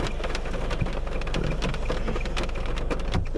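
Hail pelts a car stuck in a Yellowstone hailstorm with a dense, steady patter and sharp clatter of stones on the roof and glass. The drumming is loud and continuous throughout, with no voices.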